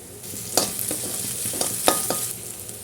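Ginger, garlic and chopped green chillies fry and get stirred in a hot pan while cooking a chicken dish, with steady sizzling broken by several sharp scraping strokes close up.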